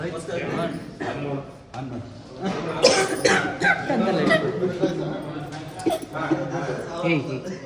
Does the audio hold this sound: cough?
yes